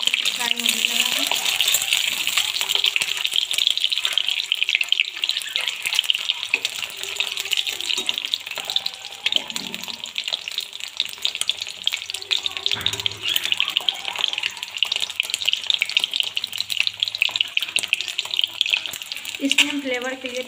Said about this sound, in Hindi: एक बार से इसे फ्राई करेंगे गोल्डन ब्राउन होने तक। देख सकते हैं फ्राई होने लगा है।